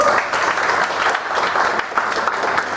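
A comedy-club audience at a Stand Up Kaskus second-anniversary stand-up show bursts into applause, a loud, continuous patter of many hands swelling and ebbing briefly, with no voices on top.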